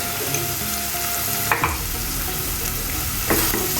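Sliced onions sautéing in a pan over a medium flame, a steady loud sizzle with a couple of brief stirring scrapes.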